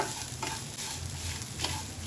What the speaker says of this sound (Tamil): இந்த தேங்காயோட வாசனை வெளியே வரும் பாருங்கள் அது வரைக்கும் வதக்கிக்கோங்க